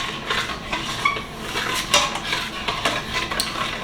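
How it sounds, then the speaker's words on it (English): A spoon stirs Mexican rice in a steaming Instant Pot, with busy scraping and clinking of the utensil against the metal inner pot, continuous and close, with no talking. "give it a good little stir."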